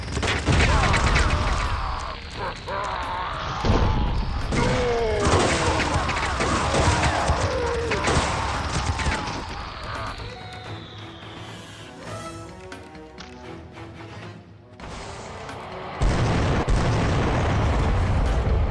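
Minigun fire and explosions in the Turok dinosaur-hunter video game, loud and dense: a sustained barrage of booms, bursts and rattling gunfire that thins midway, then surges again near the end.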